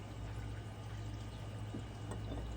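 100 proof alcohol poured over dried herbs, a faint, quiet liquid trickle over low background hum with no voices.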